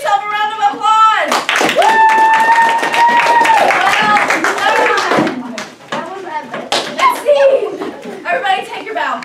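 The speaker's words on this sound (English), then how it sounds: "You give yourself a round of applause!" Clapping and cheering from an audience at an elementary school 5th grade awards assembly, loud and continuous, mixed with children's voices and chatter.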